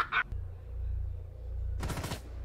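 Rapid burst of automatic gunfire in the tactical shooter game Rainbow Six, a loud rattling volley near the end after a short sharp click and a sustained low rumble, with no talk.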